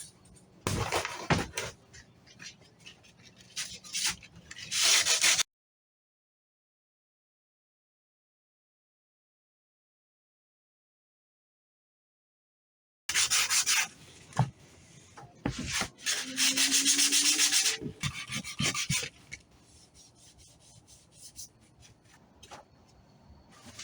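Hand-sanding body filler patchwork on a front lip body kit piece for a Mazda MX5: close, scratchy back-and-forth rubbing strokes in two bursts, separated by a long stretch of silence.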